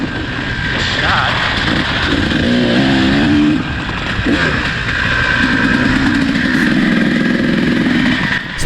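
A KTM two-stroke dirt bike ridden hard along a trail, its engine close and continuous, revving up and down with shifting pitch throughout.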